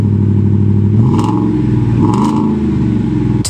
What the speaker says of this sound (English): stainless steel, tastefully loud, dual performance exhaust